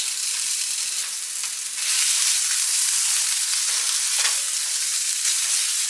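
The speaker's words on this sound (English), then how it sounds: "And then we're gonna fry up some sausage and have some burrito bowls." Sausage fries in a pan with a loud, continuous crackling sizzle that runs throughout without talking.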